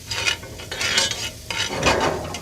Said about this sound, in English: half of a shallot diced up finely, 2 cloves of garlic, again, diced up fine. And we're just gonna let that saute in here for just a minute